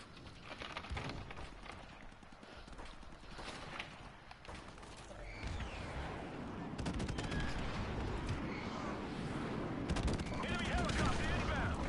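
Dense gunfire rattles through Call of Duty: Modern Warfare Remastered, bursts of automatic shots and blasts overlapping into a constant loud din, with a voice talking over it.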